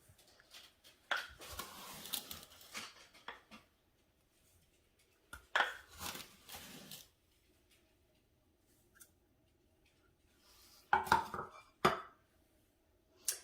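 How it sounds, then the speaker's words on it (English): Sugar scooped with a half-cup measuring cup, heard as three separate bursts of scraping, rustling and clinking against the bowl, split by quiet pauses, with no talking. "I'm actually using my half cup measuring cup here, so I'm going to do 4 of these to get my 2 cups"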